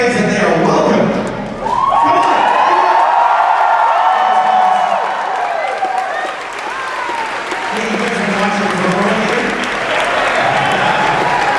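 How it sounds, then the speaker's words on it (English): A convention crowd at Power Morphicon 2012 breaks into loud, sustained applause and cheering, dipping briefly then swelling again, with voices mixed in. "So give them one big round of applause and show the fans that they are welcome."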